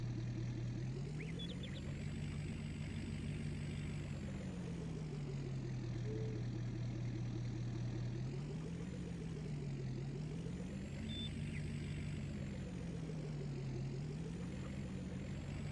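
A truck engine driving in Farming Simulator 19, a steady low drone that rises and falls in pitch as the revs change, continuous and close throughout.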